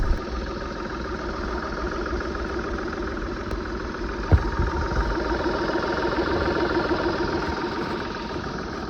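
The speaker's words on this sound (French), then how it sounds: "je vous laisse avec le moteur tournant." A VW 1.2 TDI three-cylinder diesel, as fitted to the Polo or Ibiza, idles steadily after a timing belt job, with an even close-up rumble, light mechanical clatter and one brief knock partway through.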